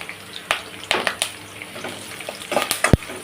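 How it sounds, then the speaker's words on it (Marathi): Curry leaves dropped into hot oil for a tiger prawn masala, with crackling sizzle and scattered pops and clinks of a pan and spoon over a steady frying hiss. "बारीक एकदम कढीपत्ता टाकते टेस्टसाठी"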